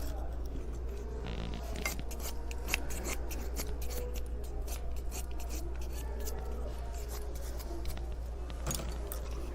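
Scissors snip woven seat material during Italian-style chair caning, producing repeated close, crisp cuts over a steady low hum in a workshop.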